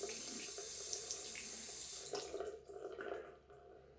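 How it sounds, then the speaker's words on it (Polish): Running tap water rinses out a wooden shaving soap bowl, a steady close splash and hiss that thins out and breaks up into sputtering trickles toward the end. "Zaraz Wam pokażę, jak łatwo jest z takiej miski opłukać wodę."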